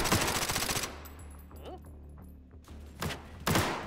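Virtual gunfire in Hot Dogs, Horseshoes & Hand Grenades played in VR on an HTC Vive: a dense burst of automatic fire, a quieter stretch with a rising whine, then two more loud shots near the end.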